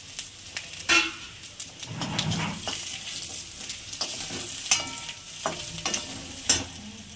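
Ginger drops into hot oil alongside dried chilies for a Bengali vegetarian curry, sizzling steadily while a spoon scrapes and clacks against the pan in irregular strokes, close and clear with no talking.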